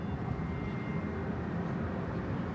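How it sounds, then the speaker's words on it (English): A KLM airliner moving out at Bangkok Suvarnabhumi Airport, heard as a steady, continuous low-frequency jet engine rumble at moderate distance, with no talking. "KLM's coming out now."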